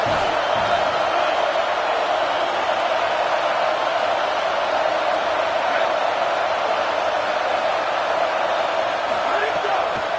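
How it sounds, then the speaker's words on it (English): Dense, steady roar of a large stadium crowd at a Purdue versus Ohio State football game, loud and continuous throughout with no pauses, a broad wash of cheering noise. "This crowd bringing the energy and noise early."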